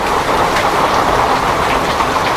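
Heavy rain pouring down steadily, a loud, dense, continuous hiss filling the space with no break.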